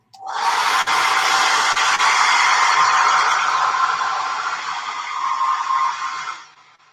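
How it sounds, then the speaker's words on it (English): A hair dryer on its cool setting blows steadily with a loud, close airy whoosh for several seconds before switching off. "I'm going to get the hairdryer up on cool."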